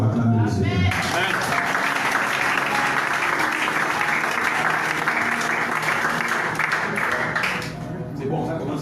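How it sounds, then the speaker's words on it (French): Loud, sustained applause and cheering from a church congregation acclaiming the Lord, filling the space for several seconds with a dense wash of clapping and voices before easing slightly near the end. "Si tu es d'accord, acclame le Seigneur."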